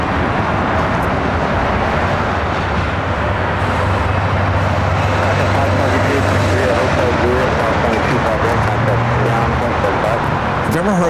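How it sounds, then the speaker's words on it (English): A Turkish Airlines Boeing 777-300ER arriving at LAX on the north side, a loud continuous jet roar with a steady low drone throughout, heard from nearby on the ground with voices over it. "That 777-300ER arriving on the north side."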